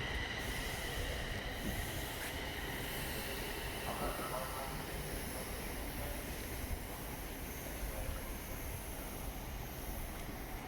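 A train pulls out of Bedford station, a faint, steady rumble of wheels and carriages with a soft squeal heard from a distance, continuous throughout.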